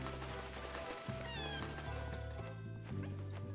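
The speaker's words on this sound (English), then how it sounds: "Cat noise." A cat meows repeatedly in a cottage-style farming video game, its calls rising clearly over steady game music with sustained low tones.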